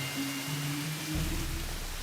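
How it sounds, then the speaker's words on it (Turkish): Steady rain pours down as an even, broad hiss with no pauses, moderately loud throughout. "Twilight, yağmur yağıyor"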